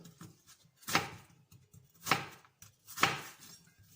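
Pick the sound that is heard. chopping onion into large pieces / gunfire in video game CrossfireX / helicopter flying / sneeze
chopping onion into large pieces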